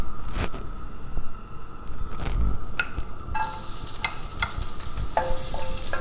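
Garlic dropped into hot oil for pinakbet, a close, steady hiss of frying with light stirring taps and a few sharp clicks against the pan.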